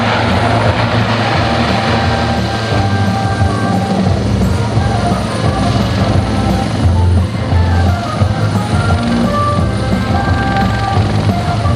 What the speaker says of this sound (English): The Superlynx is a multi-role maritime helicopter renowned for its agility, speed, and precision.